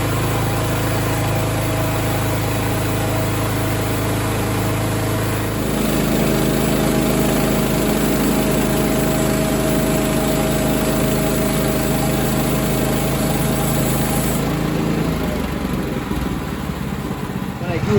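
A Woodland Mills HM130MAX sawmill cuts through a log, its engine droning loud and steady, shifting pitch under load a few seconds in and easing off toward the end.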